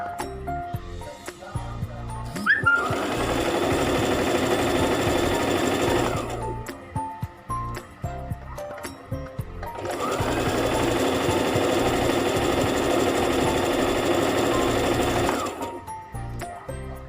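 A sewing machine stitches fabric for a hijab scrunchie in two long, steady runs of four to six seconds, close and loud, with a brief pause between them.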